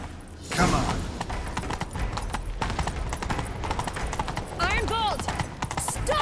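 A horse gallops in The Witcher 3 video game, with rapid rhythmic hoofbeats pounding steadily through a chase, mixed with game effects, a brief whinny and voices talking over it.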